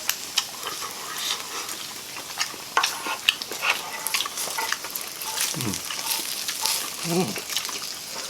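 Samgyupsal pork slices sizzle and fry on a home grill, a steady crackling hiss with scattered pops and utensil clinks, while voices talk intermittently over it.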